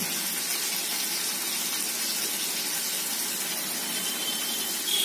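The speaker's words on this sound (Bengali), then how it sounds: "ব্যাস এবার জল দেবো। এই চামচাটা ধুয়ে জল দেবো।" Water pours steadily into a cooking pot for a curry, a continuous close rushing gush that holds at an even level throughout with no talking.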